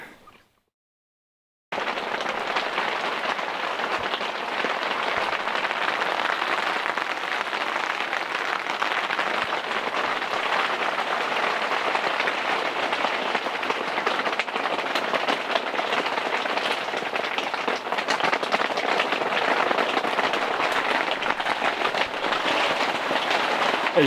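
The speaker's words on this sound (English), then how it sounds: "As you can hear, it's been raining almost all morning." Steady rain drums on the fabric of an Oztent Eyre E-2 tent while camping, a dense continuous hiss with no break, loud and close, with no voices.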